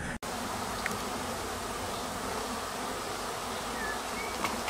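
Bees buzzing steadily at close range, a continuous droning hum that holds for the whole stretch with no voices, after a swarm of bees turned up at a home in July.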